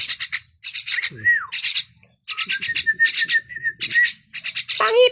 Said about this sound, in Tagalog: Nagsasalita tong ibon na to.